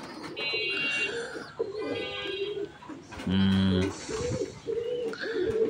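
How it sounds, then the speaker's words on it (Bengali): Pairs of old-breed Giribaz pigeons coo in a loft, with repeated throaty coos rising and falling close to the microphone and a human voice breaking in at moments. "এটা এক জোড়া পুরাতন জাতের গিরিবাজ কবুতর।"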